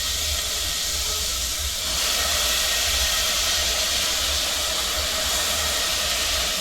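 Chana dal hitting a hot pan of masala paste, giving a steady loud broadband sizzle and hiss that swells slightly after a couple of seconds and keeps going.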